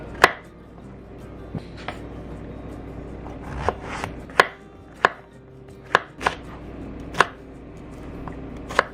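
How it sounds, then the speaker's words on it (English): A knife chops mushrooms and bell pepper on a cutting board for a vegan dinner, sharp crisp strikes arriving irregularly, about a dozen close knocks with brief pauses between them. "I'm just going to cut everything into the same size pieces"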